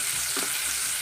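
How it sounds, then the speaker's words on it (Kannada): Half an onion sizzles in hot oil as a tempering for a dried-fish curry, a steady close frying hiss with a brief stir in the middle. "ಇದನ್ನು ಅರ್ಧ ಈರುಳ್ಳಿ ಉಳಿಸ್ಕೊಂಡಿದ್ದೆ, ಅದನ್ನು ಒಗ್ಗರಣೆಗೆ ಹಾಕ್ತಾಯಿದ್ದೀನಿ"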